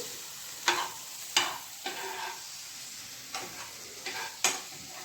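Tomatoes stirred and mashed in a frying pan for prawn thokku, giving a soft steady sizzle broken by several sharp scraping strokes of a spoon against the pan, close and with no talking.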